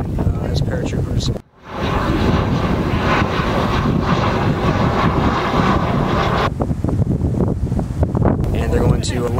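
Steady, loud drone of C-130 transport aircraft engines at an airborne training exercise, continuous through the clip apart from a brief dip, with wind buffeting the microphone.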